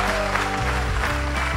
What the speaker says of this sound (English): Let's try to add sound. I got applause.